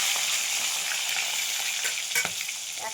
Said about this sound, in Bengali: আগে পটলগুলো ভেজে নিচ্ছি